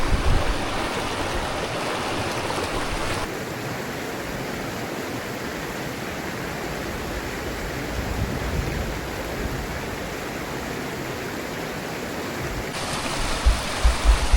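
River water flows at a hillside campsite as a steady, broad rushing wash, close and constant throughout, with a few soft knocks right at the end and no voices.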